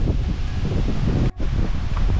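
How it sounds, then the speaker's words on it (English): Fierce wind gusting at a harbor on a bright day, a loud roaring buffet of wind against the microphone with rustling and a brief lull near the middle, no talk. "Just the wind is quite fierce."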